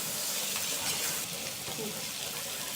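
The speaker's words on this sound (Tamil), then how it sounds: "இப்போ நம்ம மறுபடியும் என்ன பண்ணுவோம்னா நல்லா அது மாதிரி கிளறி விட்டுக்கலாம்" Yam fry with chilli powder is stirred in a hot pan, giving a loud, continuous sizzling hiss close by that runs throughout without pause.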